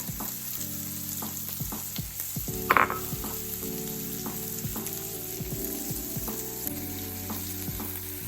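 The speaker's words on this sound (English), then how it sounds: "I'm just gonna let this cook for a little bit, just to soften the garlic and the ginger and the scallions a little bit." Garlic, ginger and scallions sizzle steadily in a pan for a vegan tofu and broccoli rabe meal, a constant close frying hiss broken by small pops and scattered utensil taps, with one sharper clatter near the middle.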